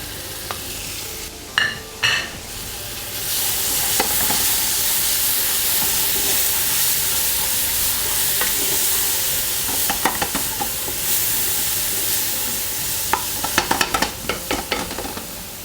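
Onions, tomatoes and ginger garlic paste frying in a pan for murgh pilau, a loud continuous sizzle and hiss broken by clattering stirring strokes near the start and end.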